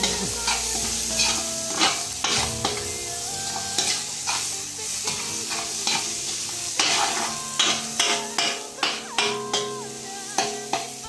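Onions sauté in a hot pan with a steady loud sizzle, broken by spatula scrapes and a run of regular knocking strokes in the later half.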